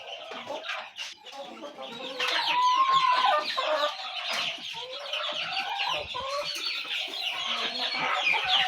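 A crowd of month-old purebred Aseel chicks chirps and clucks continuously, many overlapping high peeps close by and growing busier partway through.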